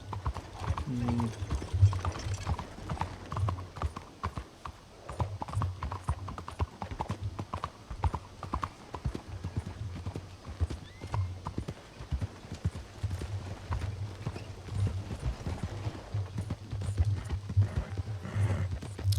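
A ridden horse's hooves clip-clop in a steady, continuous rhythm in the Red Dead Redemption 2 video game, carrying on under ambient game sound for the whole stretch.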